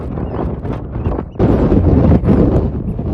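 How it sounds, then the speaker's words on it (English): Strong wind near Fair Isle, Scotland, buffets the microphone in loud, rumbling gusts that surge and drop unevenly throughout. "It is extremely windy out here."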